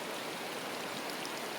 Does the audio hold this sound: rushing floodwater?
yes